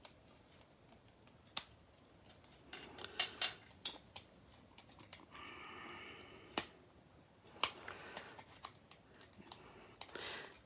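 Scissors trimming card stock for a handmade shaker card: quiet, scattered sharp snips and clicks in irregular bursts against a faint background hiss.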